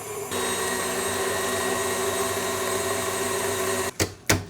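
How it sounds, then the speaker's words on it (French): A kitchen mixer spins at high speed, blending sifted cocoa with 99% chocolate in a marble cake batter. A loud steady whine starts abruptly and holds, then cuts off, followed by two short bursts near the end. "Et ça, on va faire tourner pour bien mélanger."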